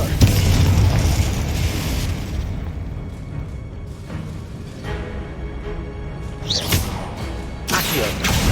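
Spell blasts from the fiery Confringo charm in the video game Hogwarts Legacy, loud booming bursts over a dense battle din, with sharp pops near the start and again toward the end.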